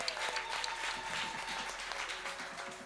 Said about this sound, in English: So another applause of hand to Brother Mariamba.